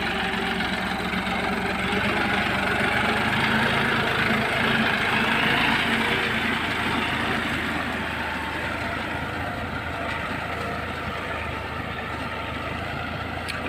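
A John Deere 5050D tractor engine, about fifty horsepower, runs steadily and loud and close the whole time with a continuous low diesel rumble and rough knocking texture, working a rice field, with no talk.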